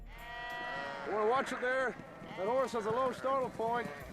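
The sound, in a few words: flock of sheep bleating, digital film effects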